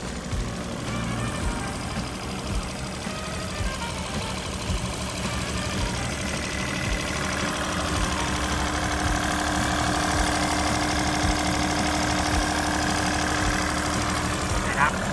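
A small Mitsubishi K3M three-cylinder turbo engine on a Caterpillar 903B wheel loader idles steadily close by, a low knocking rumble running throughout, with someone talking over it.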